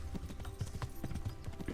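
Horse hooves clip-clopping in the medieval game Kingdom Come: Deliverance, a quick steady rhythm of soft, muffled hoofbeats, fairly faint and close.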